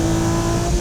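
Nissan Skyline GT-R engine while driving on a race track, a loud steady close roar with a strong tonal drone, brief and with no talk.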